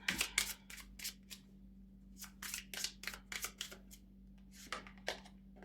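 Tarot cards being shuffled in repeated quick riffling bursts with short pauses between them, close and fairly quiet over a faint steady hum.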